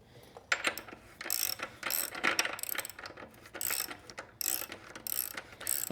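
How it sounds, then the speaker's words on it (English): Hand ratchet spinning off a motorcycle rear axle nut with a 32mm socket: quick clicking bursts of the pawl in repeated strokes, close and crisp, with short pauses between swings; no talking. "using my 1/2-inch breaker bar and my 32mm socket, I've already gone ahead and loosened up the rear nut here"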